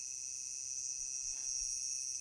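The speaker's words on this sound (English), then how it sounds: "Crickets are cricking." A steady, high-pitched cricket chirr hums continuously at a low level, with no other sounds.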